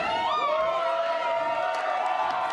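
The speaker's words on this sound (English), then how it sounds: "This crowd getting fired up." Wrestling crowd at an indoor RCW show cheering and roaring loudly and continuously, a dense wash of voices with rising whoops, under a commentator talking.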